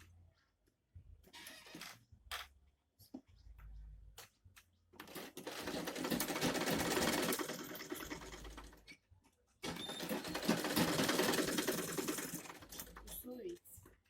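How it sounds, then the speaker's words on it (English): Sewing machine stitching the handle of a small fabric bag, short taps and starts followed by two long bursts of rapid mechanical whirring, with faint speech in the quieter gaps. "You are going to sew from this edge that you started your shaping from"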